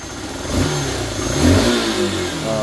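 A Yamaha SZ 150 motorcycle engine, restarted after two years in storage, runs close by and revs up twice, swelling and easing back to a rough idle.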